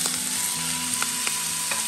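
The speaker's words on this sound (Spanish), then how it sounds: "Aquí tenemos una sartén con poquito aceite para agregar la carne a que se nos selle y cocinarle." Pork searing in a pan with a little oil: a dense, close sizzle with a few sharp pops and crackles scattered through the hiss, no talking.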